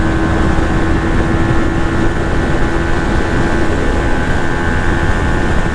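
Yamaha XSR 155 motorcycle engine pulling steadily in fourth gear, a loud continuous drone with a constant tonal hum and heavy wind rush, close and unbroken throughout.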